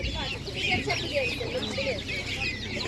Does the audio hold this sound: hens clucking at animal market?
yes